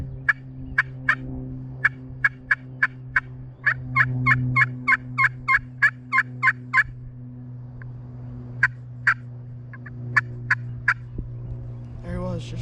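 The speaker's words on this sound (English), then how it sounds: "We got a Tom Gobbling." A wild turkey tom gobbles outdoors in a long series of sharp, evenly spaced calls, then pauses and resumes more sporadically, standing out clearly over a constant low background hum.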